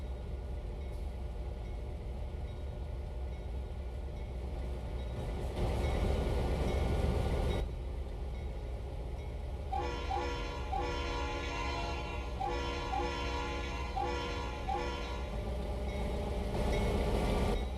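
A coal train rolls slowly through a rail yard in the Trainz simulator, a steady low rumble broken by a sustained horn blast partway through, with another horn sounding near the end.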